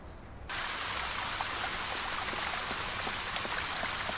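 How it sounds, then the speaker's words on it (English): A fountain water jet in the Secret Files 2 adventure game switches on with a short quiet lead-in, then runs as a steady, dense hiss of splashing water that holds at an even level to the end. "I think I will switch on the fountain"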